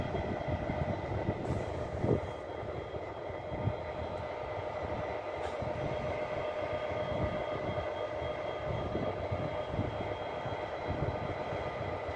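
Locomotive 59003 in new Colas Rail branding brings a train into the rail yard at Westbury, with a steady rolling rumble and some clatter of wagons, heard at a moderate distance and fairly faint.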